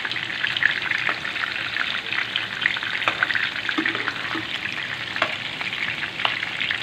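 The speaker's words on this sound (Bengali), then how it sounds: "এই যে এইভাবে আমরা 2-3 মিনিটের মতো ভেজে নেব।" Chicken pieces frying in a pan for a home-style chicken roast, a steady dense crackling sizzle with occasional louder pops and faint scraping, continuous and close throughout.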